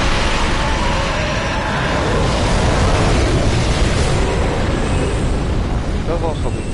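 A dragon's fiery breath in the video game Dark Souls 3, a loud, sustained roaring rush of flame lasting several seconds with a crackling, wind-like texture.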